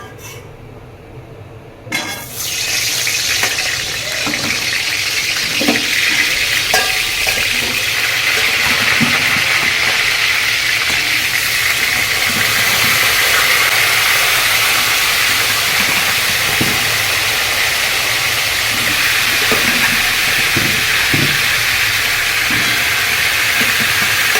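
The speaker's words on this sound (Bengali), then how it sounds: "এই পেঁয়াজ ভাজার তেলটাতেই আমি আলুগুলো ভেজে নেব।" Potatoes fry in the oil left over from frying onions, giving a loud, continuous sizzling hiss with faint scattered clinks of stirring that begins after a brief quieter moment and runs steadily throughout.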